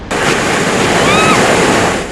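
Ocean waves break off the Southern California coast at night, a loud, dense roar of surf that surges in and holds steady for about two seconds.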